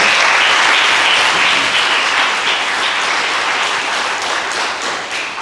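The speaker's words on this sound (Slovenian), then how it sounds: "Sklajam, da Matej je en aplavz" Loud, sustained applause from a cinema audience at a documentary film premiere, steady dense clapping that eases slightly toward the end.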